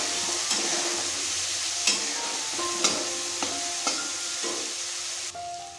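Fried potatoes with salt, turmeric and chilli powder sizzling in a pan while being stirred, a steady close hiss broken by periodic scraping knocks of the spatula.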